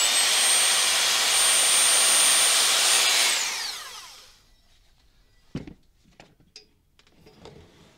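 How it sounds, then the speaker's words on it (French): Rotary hammer boring into the base of a crack in a wall, a loud steady high whine for about three seconds that spins down and fades, followed by a few faint knocks and handling sounds. "je n'hésite pas à percer le fond de la fissure au perforateur pour injecter le plus profondément"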